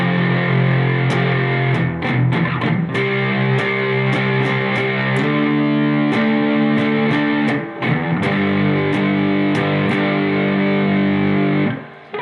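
Part 1 of the riff played slowly on a heavily distorted electric guitar: steady loud power chords with regular strum attacks and chord changes, close and alone, ending in a brief cut-off.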